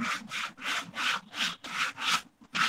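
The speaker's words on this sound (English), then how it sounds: "now with the sandpaper you can cut it" Sandpaper rubs across an 8 mm sheet in about eight close, even back-and-forth strokes, each a rasping swell with short gaps between.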